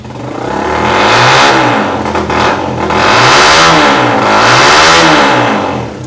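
A 2021 High Speed Infinity 150 motorcycle self-starts and revs hard twice, pitch sweeping up and down between throttle blips, loud and close with no talking.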